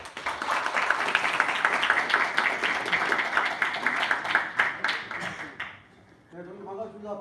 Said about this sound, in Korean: 여러분들의 힘찬 박수로 모시겠습니다